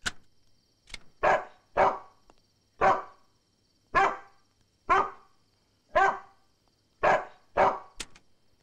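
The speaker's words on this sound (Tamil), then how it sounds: "நாய் கொலைக்கிற சத்தம்?" A recorded dog barks from a cassette player, about a dozen sharp, evenly spaced barks, clear and close, with near silence between them and no voices.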